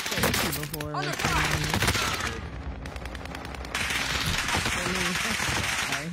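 Rapid gunfire in a shooter video game, dense bursts of automatic shots with a brief lull, loud and continuous, with a voice speaking over it at the start.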